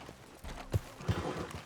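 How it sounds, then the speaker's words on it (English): Horses in the Western video game Red Dead Redemption (RedM roleplay server): a few faint, muffled hoof clops thud close by over low background noise, with no clear voices. "Oh no, horses."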